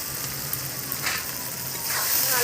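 Ground spices with dried red chilli, cumin paste, turmeric and salt sizzle steadily in hot oil in a pan as the masala is fried down, with a close, even crackle that swells slightly toward the end.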